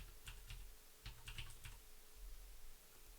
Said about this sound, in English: You just type the number straight in